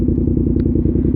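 A BMW F900R motorcycle engine idling close by, with a steady, dense, throbbing rumble and even pulses that hold at a constant loud level throughout.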